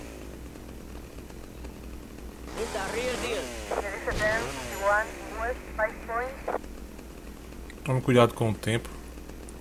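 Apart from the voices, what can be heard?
chainsaw weapon in video game GTA Vice City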